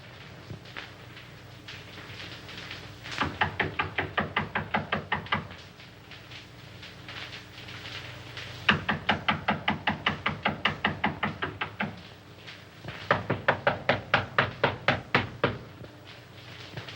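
Someone raps on a door in three separate bursts, each a quick, even run of about eight sharp knocks, with brief quiet pauses between the bursts.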